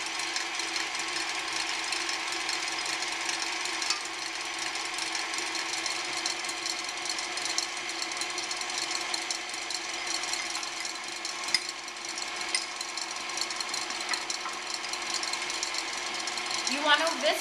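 A mixer whisks egg whites with sugar for a Valentine cake, giving a steady mechanical whir that runs throughout at moderate volume with a brief pitch change at the end, while someone talks over it.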